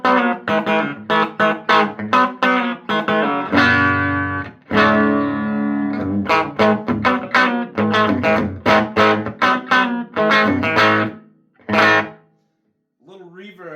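Electric guitar played through a small Roland 405 Tube Logic amplifier with 5-inch speakers, loud and close, with strummed chords and a sustained ringing chord. The last moments fade out into a brief faint tone.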